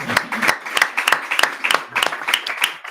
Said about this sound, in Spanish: pues sí, un aplauso, claro